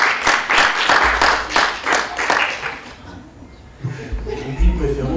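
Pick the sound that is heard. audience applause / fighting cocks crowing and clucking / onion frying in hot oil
audience applause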